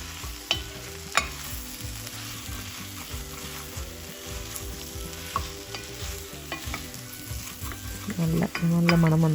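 Chopped ginger frying in a cast iron pan while being stirred, a continuous close sizzle broken by scraping and knocking of the utensil against the pan, growing louder and busier near the end.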